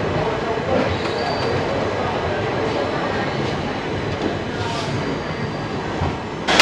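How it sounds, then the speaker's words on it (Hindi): Express train pulling out of Solapur railway station on the LTT to VSKP route, heard from inside the carriage as a steady rumble of wheels and car noise, continuous and fairly loud, with no talking. "तो अभी हम चल पड़े हैं सोलापुर रेलवे स्टेशन से।"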